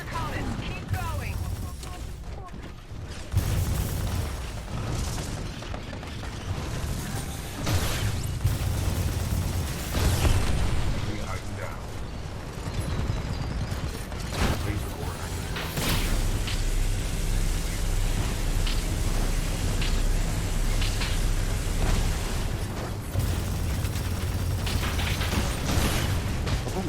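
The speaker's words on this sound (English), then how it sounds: "So many explosions!" Titanfall 2 gameplay is filled with repeated loud explosions, gunfire bursts and mechanical clanks in a dense, chaotic battle soundscape, with voices speaking over the action throughout.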